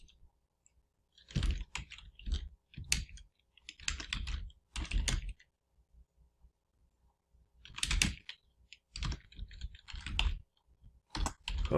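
Keys clatter on a computer keyboard while an EFIN number is entered in Drake tax software, arriving in quick bursts of keystrokes separated by short pauses.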